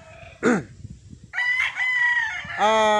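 A gamefowl rooster crows loudly and close by, two drawn-out crows with a shorter squawk before them, harmonic calls standing out clearly against quiet background.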